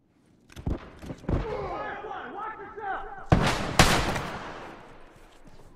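Gunfire in The Last of Us multiplayer, a few sharp loud shots and bursts cutting through shouted voices and ambient game noise, close and punchy.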